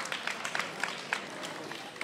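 Audience applause for a student poet at a grade 9/10 spoken word competition: scattered, fairly faint clapping with a few sharper individual claps standing out over a soft crowd murmur.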